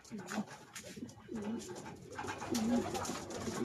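A racing pigeon coos in a loft setting with several soft, throaty coo phrases close by. Other bird sounds and a light background murmur run beneath them.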